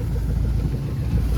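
A farm tractor's engine runs close by, a steady low diesel rumble with a gusty, wind-buffeted edge that continues throughout, with no talking.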